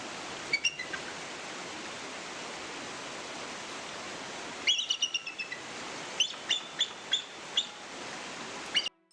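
An eagle Pokemon's cry in the game Pokemon Roguemon comes as short, bright chirps, first one near the start and then a quick run of repeated tweets later, over a steady hiss.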